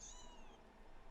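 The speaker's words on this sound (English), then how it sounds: "Sorry about that cat." A house cat gives a single short, faint meow, heard at a distance over low room hiss.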